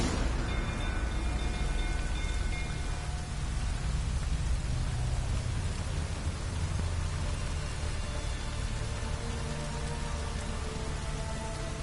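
Steady rain pours in The Witcher 3, a dense, even hiss of drops on surfaces with low rumbling beneath, continuous and fairly loud throughout with faint tonal background music lines.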